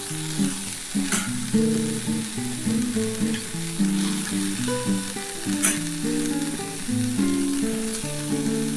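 Eggplant goes into a pan where green banana, bitter gourd and potato are already frying. It gives a continuous loud sizzle with a few sharp spatters, set under steady background music.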